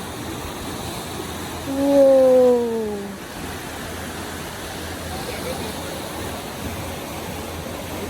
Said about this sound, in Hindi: ताकि आप लोग पानी की आवाज़ सुने